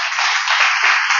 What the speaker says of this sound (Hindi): और जोरदार ताली यीशु के लिए